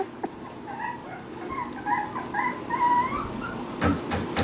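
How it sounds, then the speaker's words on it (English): A three-week-old merle puppy whimpers and whines in a run of thin, rising and falling cries at close range, ending with a few rustling bumps. "Pretty Merle puppy."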